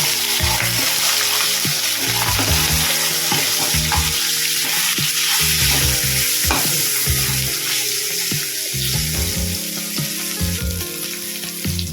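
Rohu fish heads coated in turmeric and salt fry in hot oil, a loud, close, continuous crackling sizzle with bursts of popping and occasional stirring knocks, no talking.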